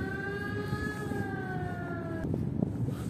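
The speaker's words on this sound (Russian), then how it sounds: "ну сирена вроде прошла" An emergency vehicle siren passes outside, a steady harmonic wail that sags slightly in pitch for about two seconds and then breaks off, leaving rumbling background noise.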